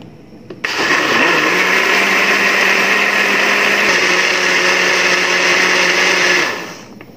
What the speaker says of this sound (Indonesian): Sekarang langsung di oser-oser, di blender saja ini